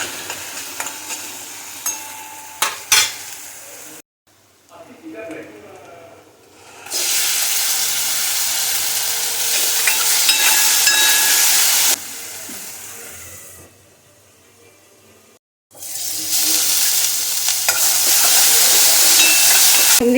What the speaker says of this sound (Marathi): आता चांगलं परतून घ्यायचं म्हणजे कच्चा वास निघून जाऊ दे टोमॅटोचा आणि ह्याचा अद्रक लसूणचा